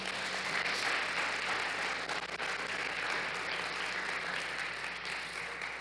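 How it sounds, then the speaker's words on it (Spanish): Church congregation at a Christmas service claps together in a broad, steady wash of applause that holds evenly for several seconds before easing slightly, with no talking over it. "Dele un aplauso a él"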